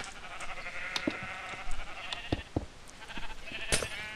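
Several scattered Minecraft sheep bleats, some overlapping, over a faint background with occasional clicks and thumps.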